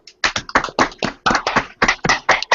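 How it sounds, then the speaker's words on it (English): A group of people clapping over an online call, loud close bursts of claps in an uneven rhythm, each with a clipped, slightly distorted quality. "everyone, unmute yourself and physically clap, please, for me"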